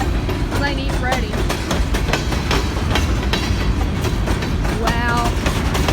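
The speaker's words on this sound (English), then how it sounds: "I knew it was the grain train by that horn. And those motors." A BNSF grain train on the Kiamichi Railroad rolls past close by, steady clattering wheels and rumbling locomotive motors filling the clip, with brief horn-like tones; a voice talks over it.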